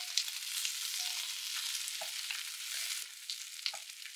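Meatballs frying in a pan, browning on each side with a steady bright sizzle and occasional small pops and spatters, close and continuous, with no voices.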